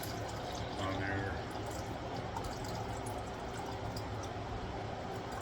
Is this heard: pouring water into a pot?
yes